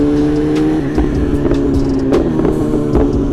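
A car engine revs steadily, loud and close, with sharp exhaust pops and crackles punctuating the drone.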